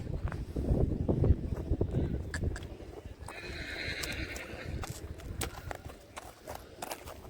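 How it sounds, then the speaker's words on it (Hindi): A ridden mare whinnies amid steady hoof clip-clops and outdoor bustle at a horse gait event, with a voice faintly in the background. "काफ़ी खूबसूरत घोड़ी, और उसके सवार भी है मेरे मित्र शकुर भाई भी साथ में है"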